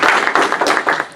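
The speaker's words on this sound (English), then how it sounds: "Round of applause, please." Applause from an audience after a talk on digital identity and two-factor authentication, a dense burst of many hands clapping at close range that holds steady for the whole moment.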